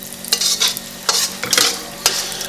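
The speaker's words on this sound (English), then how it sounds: "we're just going to stir these around until they are nicely and dark roasted" Peanuts stirred around a pan as they dry-roast for a spicy peanut sauce, giving a run of dry rattling scrapes and shuffles over a soft sizzle, close and fairly loud with no talking.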